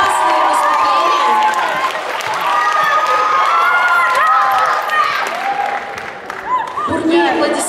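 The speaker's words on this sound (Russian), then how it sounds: "Бурные аплодисменты" Loud applause and cheering from a festival crowd at an awards presentation, honouring a girls' performing group; dense sustained clapping with shouts and whistles throughout, steady and close.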